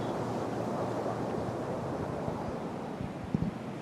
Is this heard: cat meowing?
no